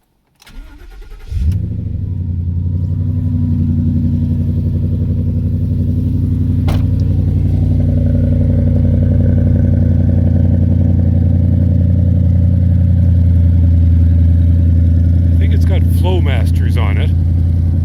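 A 2009 Ford Mustang with a swapped-in Coyote V8 cranks and fires up, then settles into a loud, steady, deep idle heard up close and outside the car, with a brief voice near the end.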